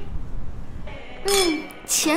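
Glasses clink together twice in a toast at a dinner table scene in a romantic comedy film, each clink ringing briefly, with a voice heard around them.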